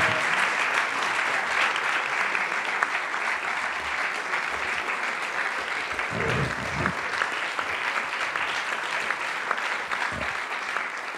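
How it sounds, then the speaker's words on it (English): Sustained audience applause for a speaker at the National Press Club, an even, dense clapping from a sizable crowd with a couple of brief low thumps partway through. "how about a round of applause for our speaker?"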